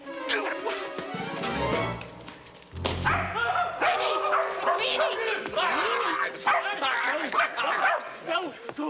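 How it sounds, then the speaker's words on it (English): A small dog yaps and barks repeatedly in quick bursts, with whimpers in between, close and loud, mixed with speech and background sound on an old children's TV show. "What is all the barking about, schemer? Are you teasing Midge's sweet little dog?"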